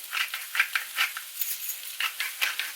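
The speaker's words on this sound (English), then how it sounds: "A few turns of the pepper mill." A few turns of a pepper mill grinding pepper over sausage gravy: close, dry gritty crunches in short repeated bursts, each twist distinct against a quiet background with no voices.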